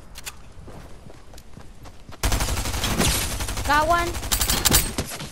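Gunfire in the Venom video game erupts midway as sustained rapid bursts after quieter footsteps, loud and dense, with a player talking briefly over it.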